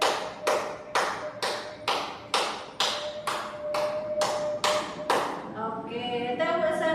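Rhythmic hand clapping in a classroom clapping game: about ten sharp, evenly spaced claps ring out close and loud, followed by a voice speaking at the end.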